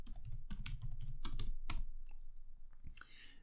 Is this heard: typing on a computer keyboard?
yes